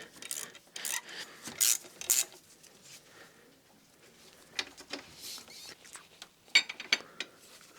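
Bolts being screwed in during an Audi S5 engine repair: faint, close clicking and ratcheting bursts in irregular clusters over a quiet background, with no voices.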